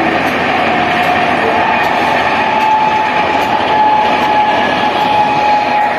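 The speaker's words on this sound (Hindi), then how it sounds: "साथ में ट्रेन वगैरह की सीन देखो" A train passes on a railway near a village, a loud, steady rumble of wagons and rolling wheels that fills the whole stretch with little change.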